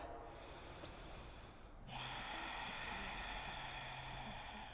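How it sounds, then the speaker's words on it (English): Loud ujjayi breath during a yoga class: a long, steady, hissing ocean-like airflow through a constricted throat, close up and alone, swelling sharply about two seconds in and then holding as a sustained rushing breath. "begin your ujjayi breathing loud"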